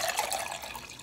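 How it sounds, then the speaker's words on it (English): Distilled white vinegar pours into a glass as a faint, steady trickling splash lasting about a second, quiet and heard alone. "fill a glass halfway with vinegar"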